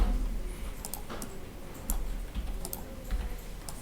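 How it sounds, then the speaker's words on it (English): Faint, sparse clicks of computer keys being pressed over a low background hum, a few taps spread across a few seconds. "Press 3 on the keyboard."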